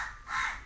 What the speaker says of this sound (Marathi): आनी कावळ्याचो आवाज येता आसतलो तुमकां